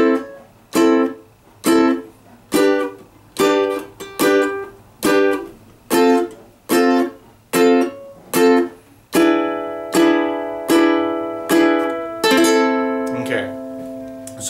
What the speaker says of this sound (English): deadening your strings and causing the staccato sound